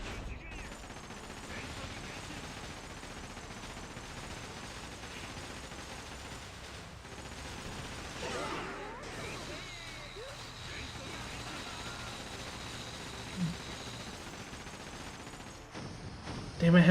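Gunfire rattles through a steady, dense din of battle noise at moderate level in the video game Like a Dragon: Pirate Yakuza in Hawaii, with a few louder bursts near the end.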